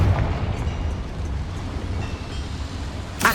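In Hogwarts Legacy, a Confringo spell bursts inside a small mine, a sustained rumbling blast that roars steadily and fills the space before a sharper crack at the end.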